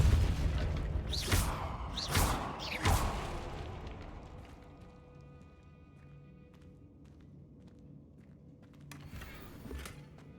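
The Depulso spell is cast in Hogwarts Legacy: three sharp whooshing bursts come in quick succession at the start, followed by quieter ambient rumble and a faint magical shimmer near the end.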